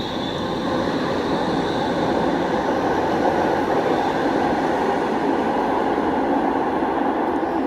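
Steady rumble of a Toronto TTC Line 5 Eglinton LRT train running between Sloane and Cedarvale, heard from inside the car as a continuous, loud rolling hum with no voices.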